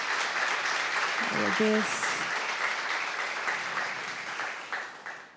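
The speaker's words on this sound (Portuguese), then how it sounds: "Você pode dar uma salva de palmas para Jesus." A church congregation applauds during an anniversary worship service, steady clapping held at moderate level and slowly fading toward the end, with a brief spoken exclamation and a short sung or hummed note rising over it early on.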